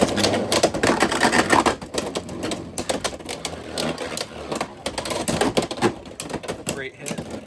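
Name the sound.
Beyblade X spinning tops launched and clashing in a stadium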